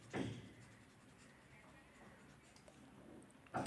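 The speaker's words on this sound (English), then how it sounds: "let's try to erase them" Eraser rubbing out marks on paper, a soft steady scrubbing close by with a bump of handling at the start and end, faint and without speech.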